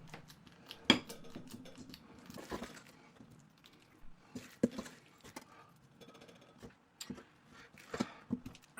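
A spoon scrapes and taps against a bowl while lemon and lime Christmas pudding mix is loaded in and pressed flat, giving sparse, fairly quiet clinks and soft thuds spread irregularly across the stretch.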